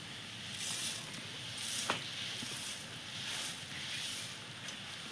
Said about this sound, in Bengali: এইভাবে আমি মুড়িটা দিয়ে দিয়ে নাড়তে থাকবো